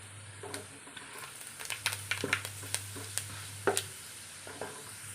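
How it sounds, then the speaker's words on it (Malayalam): Fenugreek seeds dropped into hot oil for an Onam-style lemon curry, crackling in scattered sharp pops and spits over a low steady hum, fairly faint and close, with no voices. "കുറച്ച് ഉലുവ ഇട്ട് കൊടുക്കാം."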